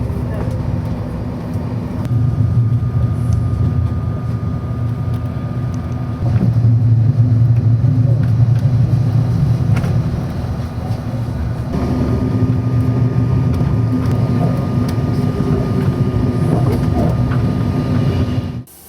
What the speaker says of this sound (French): notre train roule bien à une vitesse honorable, compte tenu des pentes et rampes multiples